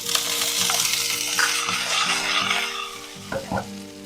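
Soaked, drained peanuts hit hot oil while cooking a wedding-style Gujarati dal, setting off a loud, continuous sizzle with stirring scrapes throughout and a few sharper bursts near the end.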